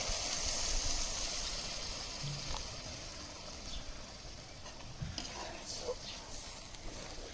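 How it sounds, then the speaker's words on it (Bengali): Water poured into a cooking pan of spice masala for a chital fish muitha curry, a steady running hiss lasting several seconds at moderate level, with faint kitchen clatter underneath. "এবার অল্প করে জল দিয়ে দেবো।"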